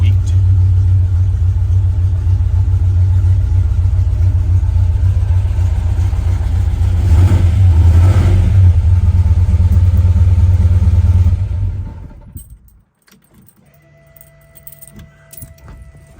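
A 1965 Chevrolet Impala SS with EFI idles with a deep, steady rumble close by for about eleven seconds, then shuts off and falls quiet, leaving faint clicks and handling noises.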